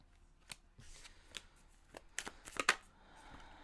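Tarot cards are shuffled and handled in scattered bursts of riffling and snapping, close and fairly quiet, building to a sharp cluster of card snaps before fading.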